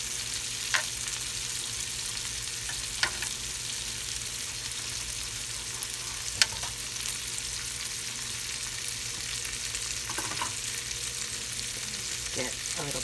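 Lobsters sizzle steadily in a hot pan, a dense, even frying hiss that runs unbroken with a few faint clicks and pops scattered through it. No one speaks.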